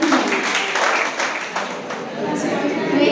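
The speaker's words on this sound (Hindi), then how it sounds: "तो एक जोर से क्लैपिंग करें।" Audience clapping at a school student award ceremony, a burst of mixed applause with chatter and a voice speaking over it, tapering off toward the end.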